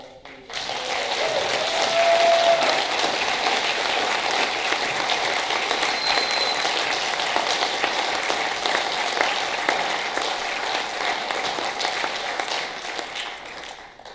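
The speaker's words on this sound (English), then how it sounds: "A round of applause, please." Sustained audience applause at a political debate held at Nashua Community College, a dense wash of many hands clapping that swells in quickly, holds steady and fades near the end.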